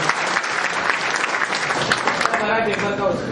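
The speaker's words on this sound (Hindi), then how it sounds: "उसके लिए जोरदार तालियां" Vigorous applause from a gathered audience, dense and loud, tapering slightly toward the end as voices start to come through.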